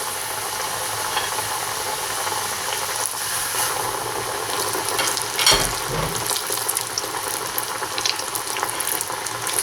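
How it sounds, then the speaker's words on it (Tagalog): Breaded potatoes fry in preheated oil with a close, continuous bubbling sizzle and crackle that runs throughout, briefly rising in a louder splash of pops partway through. "iprito dun sa ating preheated oil. So, ayan, mainit na yung ating oil. So, ilagay na natin yung na-bread nating potatoes."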